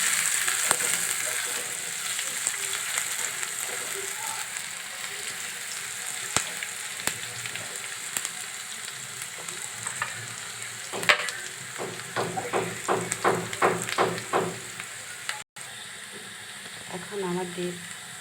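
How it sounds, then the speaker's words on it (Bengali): Onions and green chilies frying in a pan, an even sizzle throughout, with a burst of quick rhythmic spatula scrapes near the end, close; faint speech may sit under the sizzle. "পেঁয়াজ মরিচটা ভাজা হয়ে গেছে"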